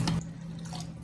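Water runs from a tap into a big bowl of sea moss to soak it, a short, steady rush of flowing water with a slightly louder splash at the start.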